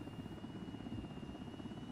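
A military helicopter in ArmA 3, its rotor a steady, fairly faint whirring drone with a thin high whine running through it, constant and unbroken.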